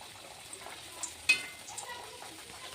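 Luchi fry in hot oil in a kadai, a faint, steady sizzle and bubbling with a few sharp spatters and clinks, close and quiet.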